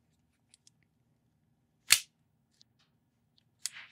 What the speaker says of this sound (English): this round bolt stop that slides upward to lock the bolt